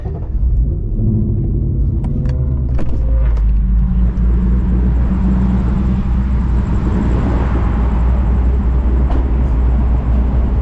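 Ford S650 Mustang GT with a ghost cam tune running on E85, its loud engine rumbling steadily close by with a lumpy idle and brief revs near the start, continuous throughout with no talking.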